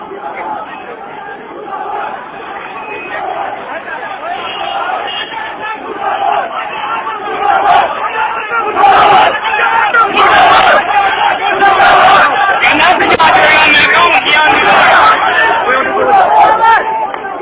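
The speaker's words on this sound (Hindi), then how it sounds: "ख्वाजा आसिफ मुर्दाबाद की सदाएं बुलंद होते हुए रंगपुरा चौक सियालकोट में" A dense crowd chants protest slogans at Rangpura Chowk in Sialkot, a loud continuous roar of many voices swelling into rhythmic shouted chanting that grows more intense midway and stays strong to the end.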